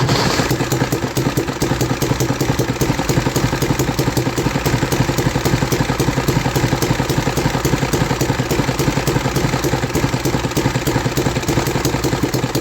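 A 3D-printed working engine runs steadily and evenly, with a continuous rapid mechanical clatter and hum throughout, close and fairly loud, without any voices.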